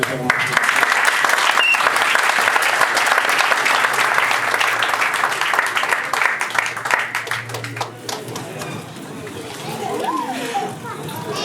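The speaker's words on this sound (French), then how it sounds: "Si on peut acclamer" Guests at a Gabonese customary wedding applaud in a sustained burst of clapping that fades after several seconds, with children's voices and crowd chatter continuing underneath.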